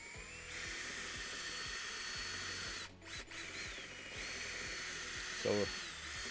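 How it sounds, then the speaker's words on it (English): A corded drill with a paddle mixer churns a full bucket of concrete resurfacer at low speed, a continuous close motor whine with a rhythmic churning pulse, briefly stopping and restarting partway through. "we're going to be using just a paddle wheel, corded drill."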